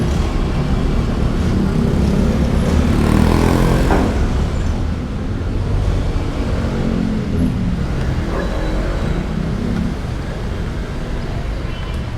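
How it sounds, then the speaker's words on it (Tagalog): Slow-moving road traffic, with a car crawling through a jam, gives a continuous low rumble and hum that swells slightly early on and then settles into an unbroken drone, with no talking. "O traffic lang kaya mabagal."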